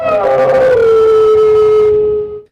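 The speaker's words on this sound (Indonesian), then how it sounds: "sempat terdengar raungan serigala" A wolf howl rings out loud and close, one long sustained cry that slides gently downward in pitch before cutting off, with nothing else over it.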